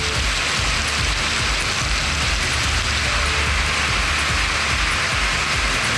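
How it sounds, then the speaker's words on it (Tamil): Heavy rain pours down steadily during a prolonged downpour in the Namakkal area of Tamil Nadu, a dense, unbroken hiss of drops drumming on surfaces with no voices. "1 மணி நேரத்திற்கு மேலாக பரவலாக கனமழை கொட்டியது"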